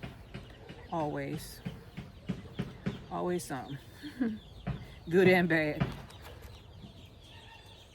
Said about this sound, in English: Looking at my birds. They always acting up.